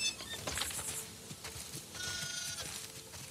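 Sheep bleat in the video game The Last of Us Part II, several wavering calls from a flock near a farm barn, with a fuller bleat toward the end and light shuffling between.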